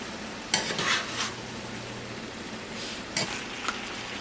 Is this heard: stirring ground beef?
yes